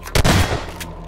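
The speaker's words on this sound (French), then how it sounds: "Pourquoi ça me tire dessus?" Gunfire in Garry's Mod on the Hell's Prison map, a loud burst of several shots in quick succession followed by one more shot, with no talk.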